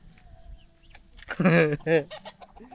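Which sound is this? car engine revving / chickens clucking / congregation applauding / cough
chickens clucking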